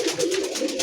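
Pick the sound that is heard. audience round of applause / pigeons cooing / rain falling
pigeons cooing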